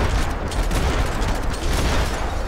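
Rapid gunfire in the video game Max Payne 3, a dense loud burst of overlapping shots filling the short stretch with no pause.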